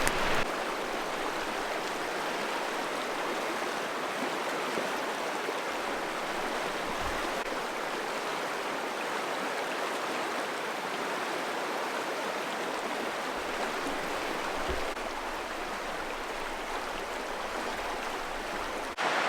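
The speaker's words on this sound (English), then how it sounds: "It's sprinkling a little bit" Light rain patters steadily at a campsite in grizzly country, heard from under a car's hatch overhang. It makes a continuous soft hiss with no talking.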